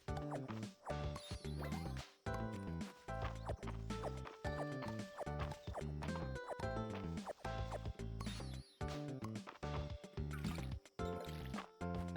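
Watering crops in the farming game Fields of Mistria: soft splashing, dripping water effects come in short repeated bursts beneath steady, melodic background game music.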